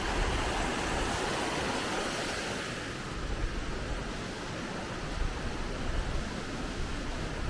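Upper waterfall in Queensland, heard as a steady, broadband rushing roar of falling water that holds fairly even throughout with no voices.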